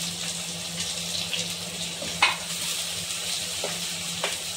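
Chopped onions frying in a pan for an aloo masala samosa filling, giving a steady close sizzle with a few soft clicks of a spoon stirring through them.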